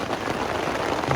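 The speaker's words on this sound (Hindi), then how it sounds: "इतनी तेज शुरू हो रही है बारिश ओले ना पड़ जाए यहाँ बस।" Heavy monsoon rain pounds steadily on a camping tent at a campsite in Mussoorie, a dense, continuous close roar with no breaks.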